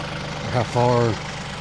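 A TYM 2515H tractor engine idles with a steady low hum during log skidding, running throughout at moderate level while a voice speaks briefly over it.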